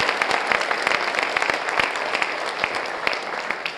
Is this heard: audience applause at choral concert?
yes